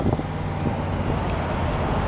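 A 1974 Chevrolet Corvette cruising down a highway, its engine a steady low rumble blended with road and wind noise, continuous and close throughout with no pauses.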